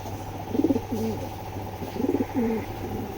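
A pair of big racer pigeons coo close by, two soft rolling bursts of throaty cooing separated by a pause, over a steady low hum.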